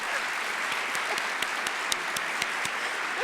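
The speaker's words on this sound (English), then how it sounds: "Are we applauding?" An audience claps at a white coat ceremony, a steady crowd applause with scattered sharper claps standing out, continuous and moderately close for a few seconds.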